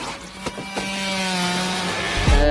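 Small hand saw sawing in a horror film scene, heard as a steady grinding rasp with a few sharp knocks early on and a louder scrape at the end.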